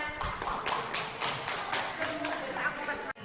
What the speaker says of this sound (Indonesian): Aplaus untuk Bu Nur Kolis.